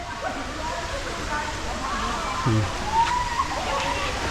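Creek water rushes and splashes steadily nearby in North Caloocan, a continuous broadband flow with a brief voice and some small knocks over it.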